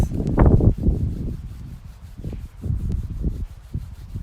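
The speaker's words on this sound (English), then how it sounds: "Just with the palms of your hands, rub them a bit until you feel that there is some warmth in your hands." Palms of the hands rubbed together to warm them, a close, dry, brushing friction in repeated back-and-forth strokes, strongest at the start and continuing more softly throughout.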